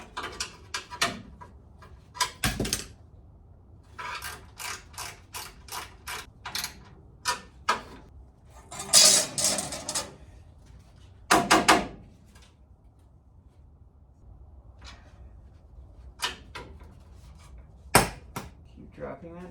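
A ratchet wrench clicks in short bursts while bolting on a Cherokee and Rambler 4x4 build, with sharp metallic clatters from the tool being dropped and quiet stretches between.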